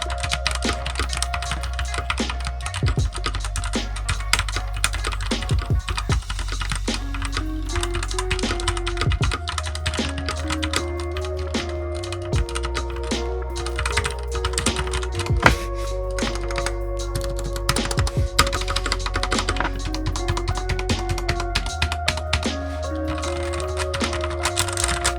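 Steady, rapid key clicks come from someone typing at length on an E-Yooso K620 mechanical keyboard. The clacks are close and crisp, with occasional heavier thunks, and there is no talking.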